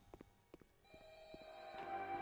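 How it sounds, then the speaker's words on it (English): A phone rings in a Roblox Five Nights at Freddy's game, starting faintly after a few soft thuds and growing steadily louder and more sustained toward the end. "I hear a phone ringing."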